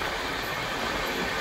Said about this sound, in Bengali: আমাদের ট্রেন চলেছে মহানন্দা ওয়াইল্ড লাইফ স্যাংচুরির মধ্যে দিয়ে।